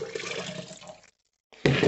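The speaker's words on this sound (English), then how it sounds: "I'm going to put my water back into this jug" Water is poured back into a jug during a DIY ground foam scatter project for a model railway, giving a steady splashing pour that stops briefly and then resumes loudly.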